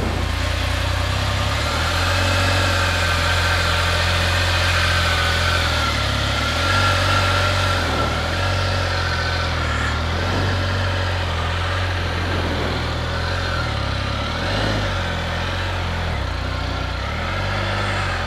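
A 2020 Can-Am Spyder three-wheel motorcycle engine idles steadily and close by, with a low constant rumble that holds through the shift into reverse, no talking over it.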